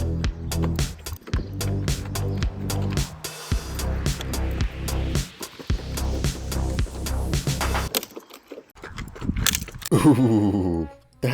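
Rope-driven robot dog walking with repeated rhythmic mechanical clatter of its legs, ending in a sharp crack as the upper link of a back leg snaps clean in half, followed by scraping and rattling.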